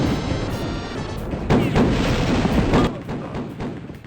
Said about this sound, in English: Rise of the Triad was one of 2 FPS games to use the dual wield, as you can see here, allowing you to use 2 pistols at once.